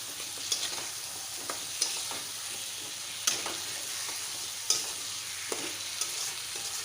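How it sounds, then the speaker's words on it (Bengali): Potatoes and spices fry and sizzle in a pan for a Bengali tiger prawn curry, a steady crackle broken by several sharp scraping clinks as the mixture is stirred. "আলুগুলো দিয়ে সব মশলা এবার আমি কিছুক্ষণের জন্য কষিয়ে নেব।"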